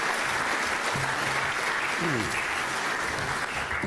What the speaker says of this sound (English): A big round of applause for Don Johnson